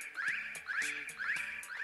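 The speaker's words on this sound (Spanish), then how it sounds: "Esa es la alarma, es que está pasando algo grave." A neighborhood alarm siren, set off by a push button, wails in repeating rising sweeps about every half second, an electronic warbling cycle heard faintly from a distance with no talk over it.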